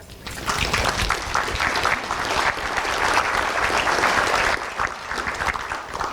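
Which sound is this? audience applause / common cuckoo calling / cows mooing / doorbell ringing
audience applause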